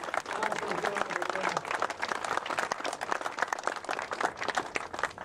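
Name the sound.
round of applause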